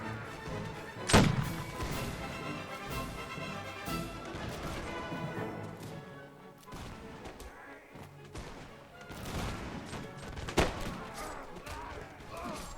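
Musket volleys from a Napoleonic-era firing line in Mount & Blade: Warband with the L'Aigle mod: one loud, booming volley early and another later, with scattered battle noise and faint voices between them.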